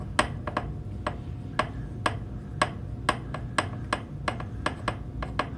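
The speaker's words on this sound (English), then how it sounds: "So I'm going to screw the strut all the way in until you get to the end of the nut." Sharp, evenly spaced metallic ticks repeat about twice a second as a new gas strut is screwed into a chair, each click faint and crisp over a low background hum.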